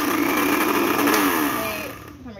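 A kitchen blender runs continuously, whirring through a banana shake with a steady motor drone that eases off and drops away near the end, close and fairly loud.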